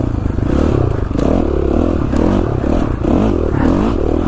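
A dirt bike engine drones loud and close while riding a high ridge trail in Idaho, with a continuous pulsing growl that rises and falls as the throttle shifts, and occasional rattling clatter of the bike.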